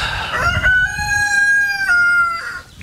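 A rooster crows once on a wet, rainy day, close and loud, a long drawn-out call that trails off at the end.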